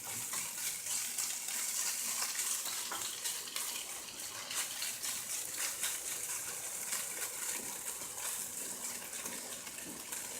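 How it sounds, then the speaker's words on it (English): Tofu searing in a frying pan on a stovetop, giving a steady, dense hiss and crackle that runs evenly throughout at close range, with no talking. "Starting to look good, getting a little toasty here, searing it up."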